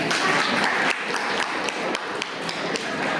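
An audience at a Tamil talk applauding: continuous crowd clapping with sharp individual claps poking through, steady and fairly loud throughout.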